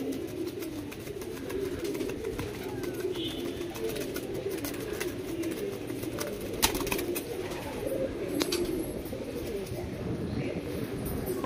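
Ablook pigeons in a fancier's loft coo continuously in a low, rolling murmur, several birds overlapping at moderate distance, with a few sharper clicks and chirps scattered through.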